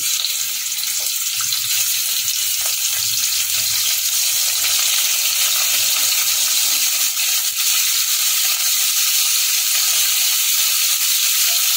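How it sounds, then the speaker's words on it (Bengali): Prawns frying in a wok for chilli garlic prawn egg noodles give a steady, loud hiss and crackle of hot oil, continuous throughout with no voices. "এবার কড়াইয়ের মধ্যে চিংড়িগুলো দিয়ে দিচ্ছি"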